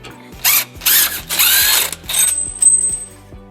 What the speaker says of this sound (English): we're going to use a 12mm socket to remove these 2 bolts from the hanger.